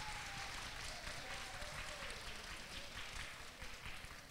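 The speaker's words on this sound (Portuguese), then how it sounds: "desse uma salva de palmas para esse presidente da Câmara" Audience at a regional public hearing in Bugio applauding the city council president, a faint, steady wash of clapping heard from a distance that holds for several seconds.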